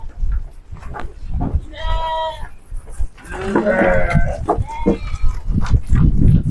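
Sheep being herded in an open pen on a farm in Kuningan. Several close bleats rise and overlap amid shuffling and movement, with people talking quietly in the background.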